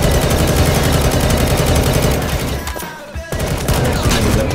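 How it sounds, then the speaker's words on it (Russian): Rapid automatic gunfire from the video game Garry's Mod DarkRP crackles in dense, loud bursts, briefly thinning out midway before resuming at full intensity. "Да что ты там стоишь, по тебе стреляют"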